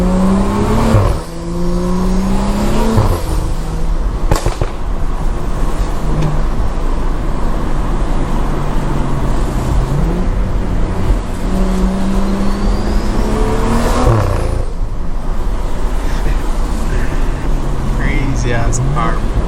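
A loud Stage 2+ tuned BMW engine revs repeatedly, its pitch sweeping up and down, with a few sharp overrun pops and bangs cracking through as a voice talks over it.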